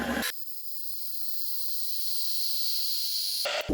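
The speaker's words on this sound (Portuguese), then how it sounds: "A chaleira já começa a dar um barulhinho típico" A Chic Lar 1,400-watt electric kettle heats water, giving a steady rising hiss that slowly grows louder over a few seconds, framed by brief bursts of other noise at the start and end.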